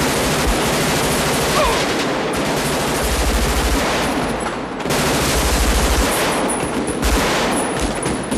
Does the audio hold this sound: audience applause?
no